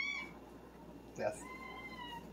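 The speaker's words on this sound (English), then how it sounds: "That's Avery. That's the cat." Cat meowing indoors in a kitchen while sushi is being made, one short faint meow midway through a quiet room, with a little talk around it.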